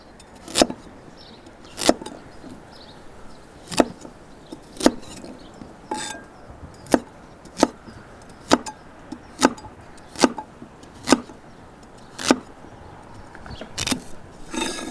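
Russet potatoes being chopped into large dice with a knife on a cutting board, giving about fourteen sharp, evenly spaced knocks close by, with no talking.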